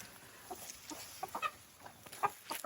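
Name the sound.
chickens clucking on a poultry farm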